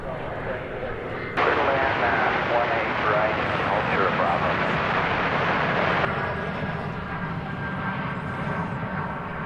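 An Airbus A340 airliner at DFW Airport roars steadily at close range, its engine noise surging abruptly then easing off, continuous and loud over several seconds.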